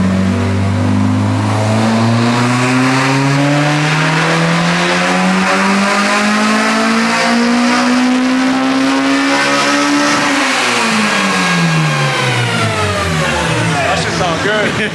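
A K20A2 engine with individual throttle bodies in a Honda Civic EG hatch revs on a dyno, pitch climbing steadily for about ten seconds before dropping off, loud and close with voices underneath.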